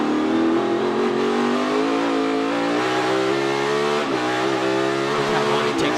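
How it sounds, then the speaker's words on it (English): NASCAR Cup Series race car on the Sonoma road course during the Toyota / Save Mart 350, engine screaming loud and close as it accelerates, with quick downshifts breaking the rising pitch around the middle. "Quick little downshifts to turn first gear."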